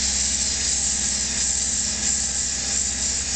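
Sandpaper pressed against a conical pipe mouthpiece spinning on a lathe makes a steady, loud hiss over the constant low hum of the motor, with no pauses.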